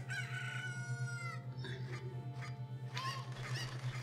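Chickens from the Ocarina of Time video game crow and cluck in a series of bright, sharp game calls over a steady low electronic hum, loud and close with no voices.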